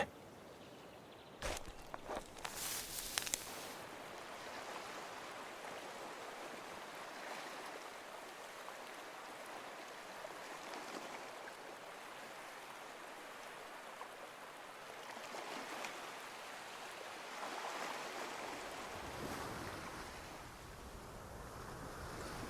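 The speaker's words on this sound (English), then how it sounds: "The sound of the waves seems to be getting louder." Ocean waves wash in a continuous surf roar with some wind, a few sharp knocks early on, swelling gradually louder toward the end.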